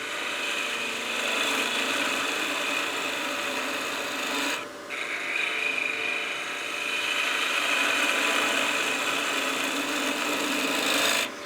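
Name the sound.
lathe tool making a bevel cut on a wooden ornament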